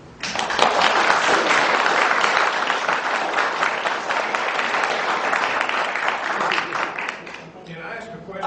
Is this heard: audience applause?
yes